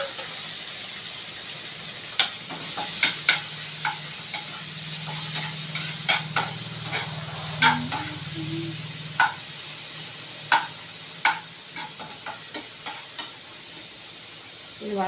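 Onions and ginger garlic paste sauté in a pan, giving a steady close sizzle broken by frequent sharp clicks and scrapes of a spoon stirring against the metal.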